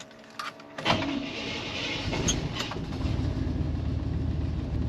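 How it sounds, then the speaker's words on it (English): Windshield wiper motor on a 1989 Chevy truck starting up after a click, then a steady mechanical whir with a faint sweeping rhythm over the running engine. "Let's see if the windshield wipers work."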